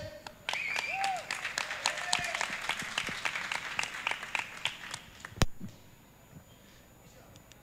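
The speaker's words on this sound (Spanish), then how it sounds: "Vamos a retomar con un fuerte aplauso." An audience claps at a King of Fighters XIV tournament before a match, with lively applause and cheering voices for about five seconds before it drops off to quiet room sound.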